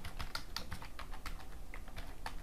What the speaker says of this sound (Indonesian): masukkan password yang pernah dibuat di awal ya